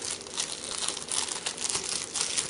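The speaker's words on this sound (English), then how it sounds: "Got a poster. Let's unwrap it" Plastic wrapping crinkles and tears close up as a Nintendo Power poster from the final December 2012 issue is unwrapped, a busy continuous crackle with no talking.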